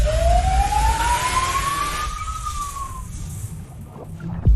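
An ambulance siren on a played video wails in one long rising then falling sweep over a steady rumbling background of traffic, fading out partway through.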